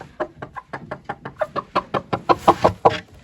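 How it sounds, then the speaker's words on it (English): Backyard chickens beside a homemade nesting box give a run of short, regular clucks, roughly a dozen pulses in quick rhythm, fairly close and clear with no talking. "These are some really nice chickens."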